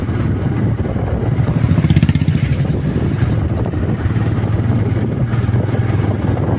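A KTM motorcycle engine rumbles loudly and steadily nearby, with a rough low drone and some rattling over a bumpy, bad road.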